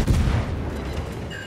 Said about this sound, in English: Now the Aegir is shooting me as well though.